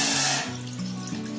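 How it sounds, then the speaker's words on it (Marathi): Short splash and trickle of water poured from a glass into a pot to start a jaggery syrup, a brief close gush that settles into a lighter, bubbling flow. "मी अर्धा ग्लास पाणी घेते"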